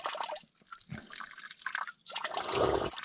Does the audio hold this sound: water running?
yes